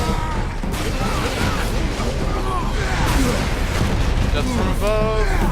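Tank buster explosions in Warhammer 40,000 Space Marine boom repeatedly amid dense battle noise, with heavy low-end blasts and crashes layered under a voice talking over the action.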